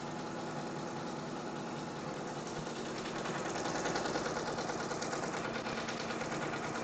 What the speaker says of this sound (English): what's stitching out now is Bread of Life